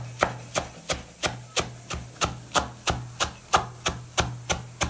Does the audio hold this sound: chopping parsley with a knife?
yes